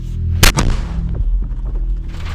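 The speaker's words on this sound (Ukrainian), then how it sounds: "Здійснили чотири постріла." A single loud, sharp mortar blast goes off nearby in eastern Ukraine, followed by a deep rumbling echo and low engine-like drone.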